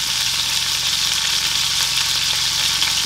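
A burger patty fries in a pan at a school-bus campsite, giving a steady, loud, continuous sizzle with dense crackle and no pauses, alongside a faint low hum underneath.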